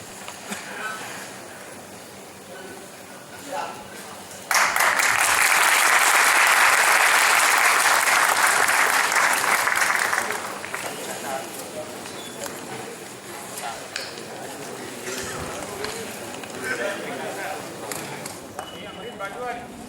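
A dense burst of applause from a conference audience greets a souvenir release by Justice Katju, starting abruptly, holding loud and steady for about five seconds, then fading back into hall murmur and voices.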